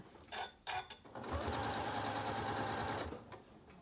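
A sewing machine stitches over thick quilt seams, with a couple of short bursts first, then a steady, loud whirring run of about two seconds that stops abruptly.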